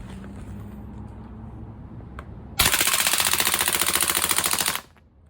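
A VFC HK MP5A3 gas blowback airsoft rifle fires a single loud, rapid full-auto burst of about two seconds, close up, after a quiet stretch with faint handling sounds.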